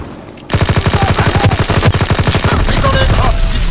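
PPSh submachine gun fired in Call of Duty: WWII, one loud, rapid continuous burst after a short quiet start, shots rattling in a steady fast rhythm for about three seconds.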